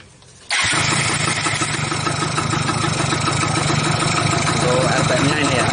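A Yamaha FIZ R motorcycle engine fires up after a short quiet moment and then runs steadily and loudly at close range for an RPM test.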